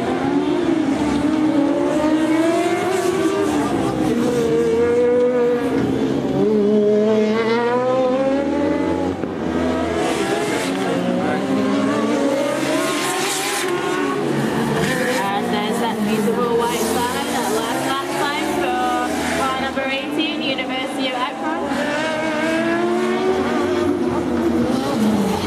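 A Formula Student race car laps the track during the FSG 2012 endurance event, its engine note rising and falling through gear changes, loud and continuous under a commentator's voice.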